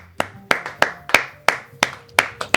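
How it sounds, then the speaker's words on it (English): Single person clapping hands in slow, evenly spaced claps, about eight sharp close strikes, rather than a full audience, after a sustainable fashion talk-show segment. "Give her a round of applause."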